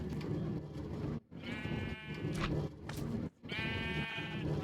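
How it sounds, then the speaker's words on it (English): Sheep in Minecraft bleat in a rapid series of wavering, nasal baa calls, loud and close, with two short pauses breaking the run. "now for the less fun part, getting all the sheep into these tiny little pens"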